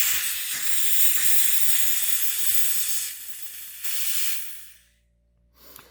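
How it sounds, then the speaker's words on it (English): A Planet Bike Black Zeppelin CO2 inflator has its valve opened and vents gas in a loud, close, steady hiss that weakens, stops, then gives a short final puff. "before you disconnect the CO2 cartridge, you'll want to open up the valve and make sure all the air is discharged"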